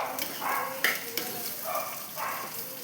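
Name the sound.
sautéing onions in a pan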